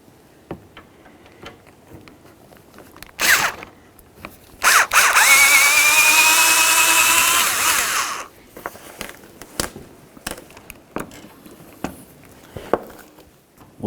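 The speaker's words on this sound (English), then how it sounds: "Use a 10mm, remove the bolt, and remove the line from the AC condenser." On a 2003-2007 Honda Accord, a bolt on the AC condenser line is loosened with a 10mm tool, giving a close burst of rapid mechanical whirring of about three seconds, flanked by sharp clicks and light clatter of metal parts.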